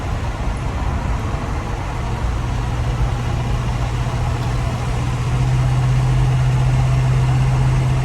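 Engine of a 1967 Ford Mustang running as the car drives, a steady low rumble with broadband road noise throughout, growing slightly louder and deeper toward the end.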